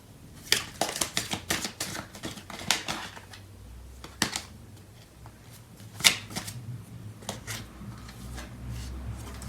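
Tarot cards shuffled in repeated bursts of crisp riffling and slapping, close and fairly loud, with short pauses between handfuls and no talking.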